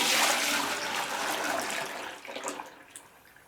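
Homemade ballistic gel mixture pours in a steady, close, liquid rush that thins out and trickles off toward the end, with no talking.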